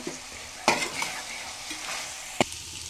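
Chicken liver fried with chilli powder and coriander powder, stirred in a hot pan: an even close sizzle broken by two sharp scraping clinks of the spoon.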